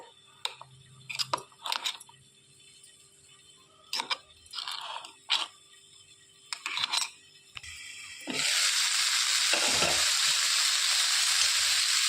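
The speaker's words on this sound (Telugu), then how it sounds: "మధ్య మధ్యలో ఇలా కలుపుకుంటూ ముక్క మెత్తబడే వరకు ఉడికించుకోవాలండి" Chopped ridge gourd for a coconut chutney is stirred in a pan, giving a series of sharp scraping clinks in bursts, then a loud, steady sizzle takes over for the last few seconds. No talking.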